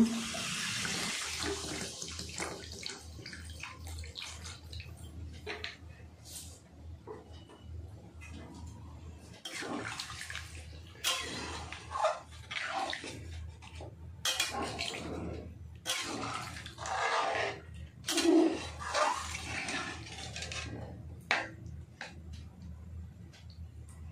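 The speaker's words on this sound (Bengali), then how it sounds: "এবার আমি দিয়ে দেব জল।" Water pours into a pan of simmering dum aloo made with small potatoes, a steady splashing stream followed by clinks and intermittent rustling, close and moderately quiet.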